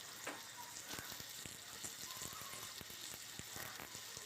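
Diced potato, pumpkin, flat beans and eggplant fry in hot oil with panch phoron for a winter palak shak dish, giving a steady close sizzle with scattered crackles and light stirring clicks throughout.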